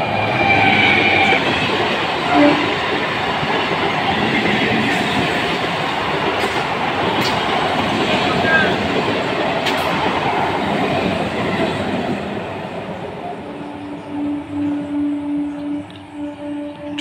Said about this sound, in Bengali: চলে গেল Katwa two Bandel local EMU.